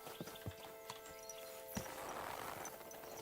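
A horse clip-clops at a walk in a video game, its hoofbeats irregular and faint over a steady ambient hum.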